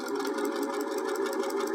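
A sewing machine stitches steadily through a quilted trivet, its fast even needle clatter and motor hum continuous and close throughout, with no pauses.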